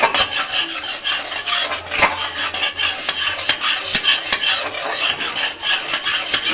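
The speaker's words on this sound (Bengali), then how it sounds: "এভাবে নাড়িয়ে নাড়িয়ে আমি একটি ক্যারামেল তৈরি করে নেব" A utensil stirs and scrapes caramel in a pan while making mishti doi, a continuous close rasping and rubbing with irregular clicks against the metal, no voices over it.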